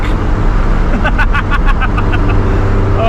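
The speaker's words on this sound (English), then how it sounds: "Full boost. Let's just go drive down over there so we can keep doing pulls." A 1,000-horsepower Honda CR-Z accelerates under full boost, a loud, close engine roar with a rising rhythmic pulse through the middle.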